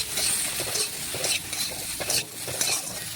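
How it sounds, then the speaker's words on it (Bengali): Okra frying in hot oil with salt and turmeric, stirred and turned with a metal spatula: steady close sizzle under repeated scraping strokes against the pan, no talk. "খুরপি দিয়ে নাড়াচাড়া করে লবণ হলুদ ভালোভাবে মিশিয়ে নিচ্ছি।"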